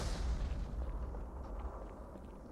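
Low, rumbling grenade explosions boom in a video game, a heavy deep burst at the start fading into a lingering muffled roar, fairly quiet overall.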